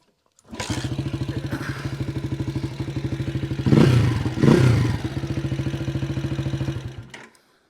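Kick-start of an old-school Janus Halcyon 250 motorcycle in neutral: the single-cylinder engine catches and settles into a steady, close, loud thumping idle, with two heavier bursts of clatter and revving midway before it cuts out.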